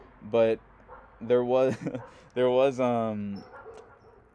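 Dogs bark and whine nearby in a few loud, drawn-out bursts with short gaps between them, and a person speaks briefly amid the noise.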